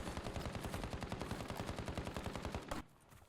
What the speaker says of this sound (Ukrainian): по мені стріляють